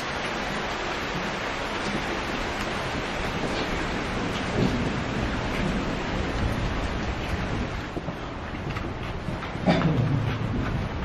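Heavy rain pours steadily outside a Japanese-era cave in Bandung, a dense, continuous roar filling the whole stretch with a few louder thumps, no voices.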